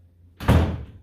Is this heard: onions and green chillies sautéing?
no